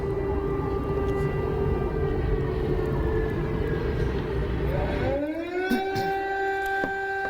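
A long wailing air raid siren in a Ukrainian city under bombardment holds a steady tone over a low rumble, then swells and rises again with a clearer, sustained pitch.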